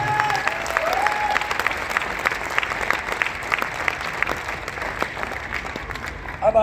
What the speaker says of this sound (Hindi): एक बार चाहेंगे साहब, ताली जोरदार वाली चाहिए।